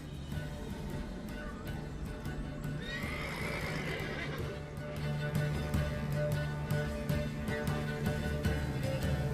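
Horse neighing and hoofbeats from Geralt's horse Roach in The Witcher 3, a loud whinny rising over steady clip-clop steps and game music, with no voices.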